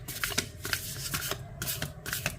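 Oracle cards being shuffled up close in quick, soft riffling bursts with brief pauses between them, faint and alone.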